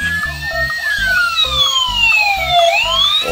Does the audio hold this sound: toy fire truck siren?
yes